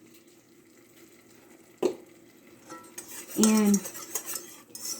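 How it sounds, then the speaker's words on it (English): Vanilla extract gets stirred into a thick chocolate sheet cake mixture, starting quiet and then breaking into a sharp utensil clack and rattling scrapes of a spoon against a bowl, while a voice speaks briefly near the end. "So we're just going to stir up that vanilla in there."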